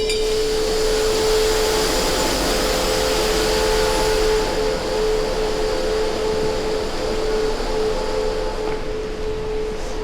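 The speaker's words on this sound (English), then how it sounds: "So what I have in the silo, the compressor is pushing out." A compressor blows quartz sand out of a silo truck, a loud, steady roaring whoosh with a constant tonal hum running unbroken throughout.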